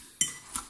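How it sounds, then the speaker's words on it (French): A utensil stirs a squash and tuna fritter mixture in a bowl, making two quick metallic clinks a moment apart against a quiet background. "Allez, on va mélanger ça."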